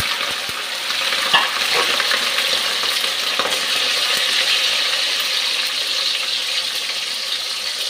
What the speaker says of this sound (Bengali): আলুটা ভেজে নিচ্ছি আগে।